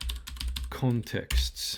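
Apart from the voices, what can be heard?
typing on a computer keyboard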